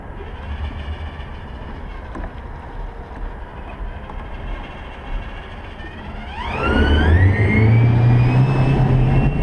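An electric car, the EVTV Amsterdam conversion, accelerates from a rolling start: a steady low cabin rumble swells at once into a loud rising motor whine with climbing tonal sweeps and road roar, no talk.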